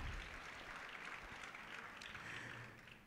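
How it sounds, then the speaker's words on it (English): Conference audience gives the panel of a ministerial and executives discussion another round of applause, a brief, moderately loud wash of clapping that holds steady and tapers slightly at the end. "Another round of applause for our panel"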